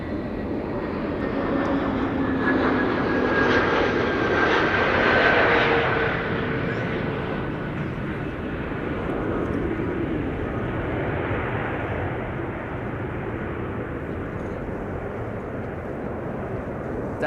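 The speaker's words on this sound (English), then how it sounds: "KLM flight 1776 arriving from Berlin, A321neo." KLM Airbus A321neo airliner arriving at Amsterdam Schiphol, its jet engines a broad, steady roar that swells slightly and then holds at moderate distance throughout, with no voices.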